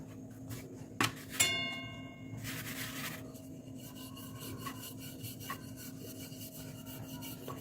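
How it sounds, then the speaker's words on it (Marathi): Mango puran poli flatbread being rolled out with a rolling pin, edges included: soft, steady rubbing and rasping of dough against the board, with a couple of sharper clicks near the start and no voices. "अशी मस्त लाटून घ्यायची आणि पोळीच्या कडा पण व्यवस्थित लाटून घ्यायच्यात."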